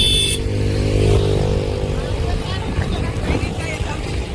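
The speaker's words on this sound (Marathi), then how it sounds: "गाडी आली." A motor vehicle arrives along a road, its steady engine drone rising close by, with people talking over it.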